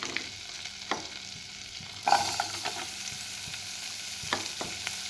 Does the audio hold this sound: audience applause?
no